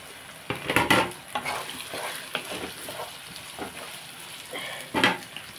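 Beetroot, carrot and potato are stir-fried with browned onions in a pan, giving a soft sizzle under scattered scraping and stirring strokes, with a few sharper clatters of a spoon against the pan.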